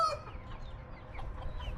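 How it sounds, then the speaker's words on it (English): Backyard chickens in a home garden give a few soft, close clucks, with a brief higher call at the start and quiet ambience after. "see her beautiful chickens"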